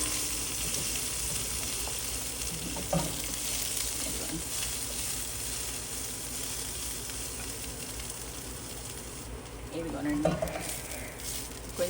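Green chilli paste frying in a pan, a faint steady sizzle with a few scattered utensil knocks, briefly joined by a short spoken word.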